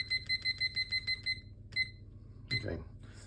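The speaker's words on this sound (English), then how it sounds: "So I'll just set the timer for that." A kitchen timer beeps in a rapid, even run of about ten high beeps, then gives one more beep before a soft clunk, close and clear with no talking.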